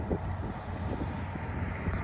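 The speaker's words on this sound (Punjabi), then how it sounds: "ਹੁਣ ਚੱਲ ਰਹੀ ਹੈ ਕੰਬਾਈਨ" A John Deere combine harvester runs in a wheat field as a steady, continuous low machine drone mixed with wind noise, with no voices.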